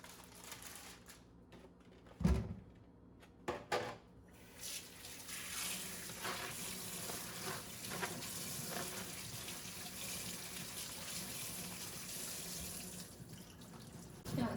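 Tap water runs steadily while red mushrooms are roughly rinsed for a pork and mushroom soup, with a few sharp clatters near the start and a continuous splashing hiss throughout.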